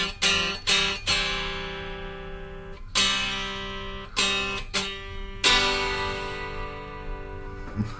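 A Telecaster electric guitar rings out in several strummed chords, each attack bright and loud, then sustaining and slowly decaying into a long shimmering ring, with no talk.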